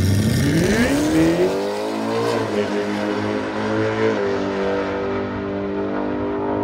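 Toyota Supra fitted with a Hellcat V8 launching hard on a drag track, a loud roaring exhaust whose pitch climbs steadily as it accelerates away, then holds a high sustained drone, no talking.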